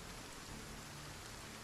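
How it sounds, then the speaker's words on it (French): Steady rain falling in the video game Project Zomboid, a continuous soft hiss of dense rainfall, faint and even with no other sounds. "ça serait bien qu'il arrête de pleuvoir aussi"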